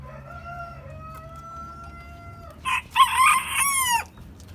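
A young male partridge in a coop calls nearby: a thin whistled tone first, then a loud, harsh burst of rapid chattering notes that ends abruptly.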